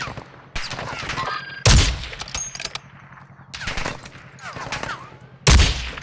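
Rapid bursts of automatic gunfire and loud single shots crackle in a Call of Duty firefight, some close and booming, others more distant, while a player talks over the action.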